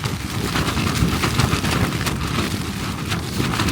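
Steady rain falling on a tarp shelter at a camp, a dense, continuous patter and hiss that stays loud and even throughout, with no voices.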